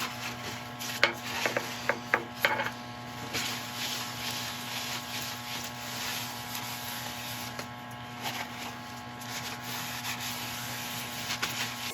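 Woodturning piece spinning on a lathe during a final polish, a continuous rubbing hiss over a steady motor hum, with a few sharp scratchy bursts early on, no talk.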